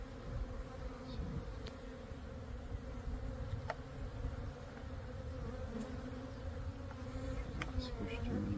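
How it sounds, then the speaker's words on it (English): Live honey bees drone steadily in a backyard hive, a dense close-up buzz that holds for the whole stretch with a few brief sharper clicks and movements. "We got some live bees."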